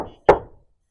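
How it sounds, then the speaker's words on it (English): A single sharp knock on a surface in a garage, close and loud, with a short decay into silence. "I'm gonna make a knock for you."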